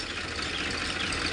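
Massey Ferguson tractor engine labouring under heavy load during a tractor tug-of-war against a Farmtrac, a steady low drone that holds level throughout, close and continuous with no voices.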